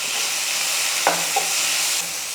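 Tomatoes and ginger-garlic paste sauté in a pan for Chennai-style vada curry. A steady, close sizzle carries throughout, broken by a couple of brief spoon scrapes while stirring, with no talk.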